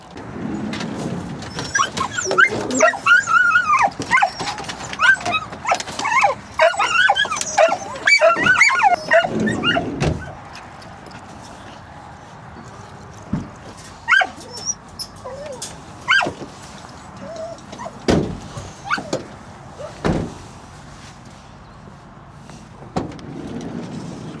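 Nine dogs barking, yipping and whining excitedly up close on arrival at a secure field for a walk, a dense flurry at first, then scattered barks with quieter gaps.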